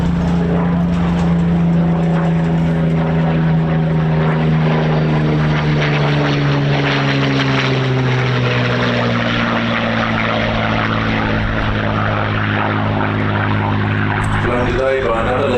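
A Supermarine Spitfire with a Merlin 63 engine flies a display, its propeller drone loud and close with a pitch that sweeps downward as it passes, leaving a steady roar beneath a voice talking over it.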